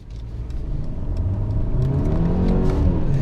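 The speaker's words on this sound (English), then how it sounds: "I can show you the kind of acceleration this thing has" A 2022 Mercedes GLE350 4Matic with all-wheel drive accelerates hard onto a highway in sport mode, its engine note steadily rising and swelling in a loud, continuous whir heard from inside the cabin.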